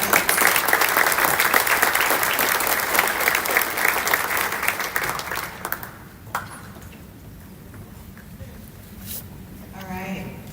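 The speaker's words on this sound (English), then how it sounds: "let's give another round of applause to our athletes" Applause from the audience at a high school awards ceremony, honoring the school's athletes. Dense, steady clapping fills the first six seconds, then thins out to sparse claps and room noise, with a few faint voices near the end.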